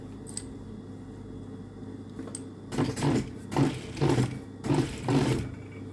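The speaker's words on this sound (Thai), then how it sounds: "แล้วเราก็เย็บนะคะ เย็บลงไปตรงเส้นที่เราเลาะเมื่อกี้เหมือนกัน" A sewing machine stitches a seam on a loose dress in several short, quiet whirring bursts following a brief pause, with a faint steady hum underneath.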